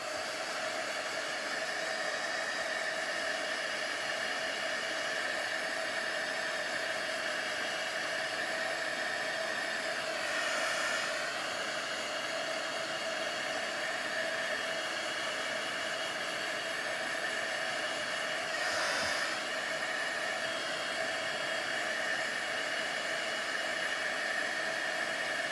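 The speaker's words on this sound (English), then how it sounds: "I'm gonna hit that with the heat tool," A handheld heat tool blows a steady, unbroken whoosh of hot air across freshly smushed ink on a handmade card, holding an even loudness throughout with no talking.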